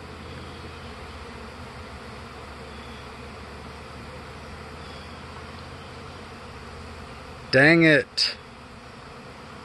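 Honeybees swarm around a beehive in a steady, soft, diffuse buzzing drone that fills the air throughout, briefly broken near the end by a short spoken exclamation.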